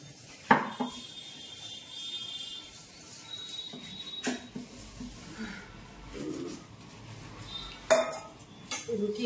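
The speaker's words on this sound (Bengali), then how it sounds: "এবার চাকি বেলনটা সাবান দিয়ে দিচ্ছি" A wooden rolling board and rolling pin being washed with soap produce intermittent knocks, scrapes and clatters of wood against a hard surface, with faint birdsong in the background.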